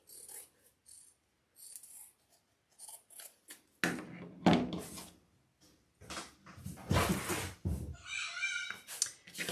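Scissors snip through fabric while trimming a sewn leprechaun top hat wreath piece, a run of close, crisp cuts that starts with a few light snips and builds to louder, longer bursts of crunchy cutting.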